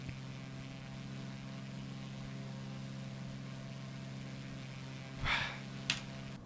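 A Cessna Cardinal C177 single-propeller engine drones steadily in X-Plane, a constant low hum heard from inside the cockpit, with a couple of brief clicks and rustles near the end.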